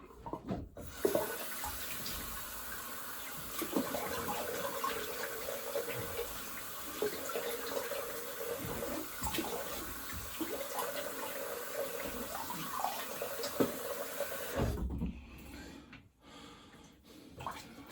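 Cold tap water runs steadily into a sink while someone rinses off, a continuous close splashing rush with small uneven spatters that cuts off abruptly near the end.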